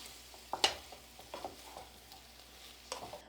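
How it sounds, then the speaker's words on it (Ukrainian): Chicken and onion sizzle softly as they are stirred in a frying pan, with a few sharp scraping clicks of a utensil against the metal, fairly close and not very loud. "Курку з цибулею перемішую, буду смажити до такої легкої грум'яності цибулі і м'яса."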